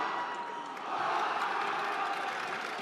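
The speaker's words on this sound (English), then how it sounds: "Great crowd on here in the Ryan Center, very vocal" A vocal crowd at a state tournament final basketball game in the Ryan Center gives a steady, fairly distant roar of cheering that swells partway through.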